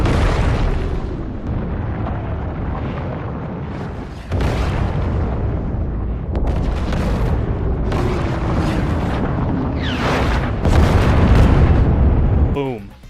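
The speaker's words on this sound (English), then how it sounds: "Just the scary-ass natural sounds of a volcano erupting." Volcano eruption and meteor impact from a Fortnite live event, loud continuous rumbling booms with sudden explosive bursts and sweeping whooshes, dense and roaring throughout before cutting off.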